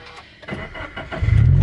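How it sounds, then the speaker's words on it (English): A Subaru BRZ race car cranks briefly and its engine catches, rising into a loud, rough idle rumble close by after a few soft clicks and shuffles. "let me start the car"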